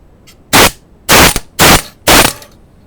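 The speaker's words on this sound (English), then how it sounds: "we'll use an air tool to make it easier" Four loud pneumatic impact-wrench bursts from an air tool on a 1-inch socket, loosening a power steering pump pulley during a pump rebuild, each about a third of a second long, evenly spaced and close to the mic with no talk.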